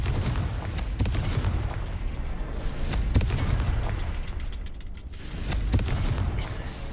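Fiery Confringo spell blasts in the Hogwarts Legacy game, a dense run of booming explosions with sharp cracks about once a second over a sustained rumbling roar, loud and close.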